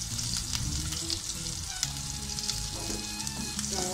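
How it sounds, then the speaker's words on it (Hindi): Chopped garlic and green chilli fry in a spoonful of oil in a kadai, giving a bright, close sizzle with stirring scrapes and a faint tonal squeak of utensil on metal. "थोड़ा फ्राई कीजिए"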